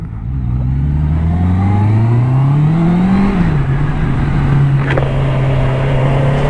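A 2022 Honda CBR650R motorcycle under full-throttle acceleration, its loud engine tone climbing steadily in pitch before levelling off into a sustained high drone, close by with no talk.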